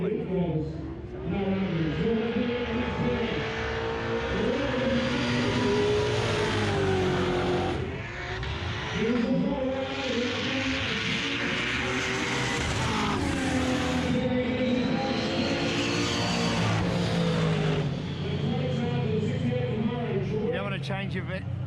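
Race cars revving hard and accelerating in a roll race at a garage Gruntfest event, loud sustained engine roar with rising and falling pitch sweeps across several runs, people talking over it.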